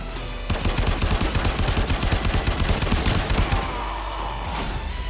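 Rapid automatic weapon fire in the video game Warframe: a loud, fast burst of evenly spaced shots lasting about three seconds, then cutting to a quieter rumbling background.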